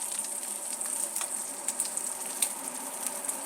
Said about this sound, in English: Now we give a little sear on the edge, especially where the fat is.